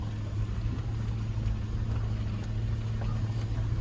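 Low, rumbling engine drone of a Land Rover LR3 accelerating off-road through mud, steady and moderately loud with a throbbing undertone for a few seconds.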